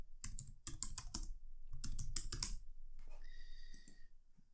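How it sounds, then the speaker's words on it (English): Quick bursts of key clicks on a computer keyboard come in two clustered runs of close, crisp taps, followed by a few scattered presses at low volume with no talking. "let's type that in"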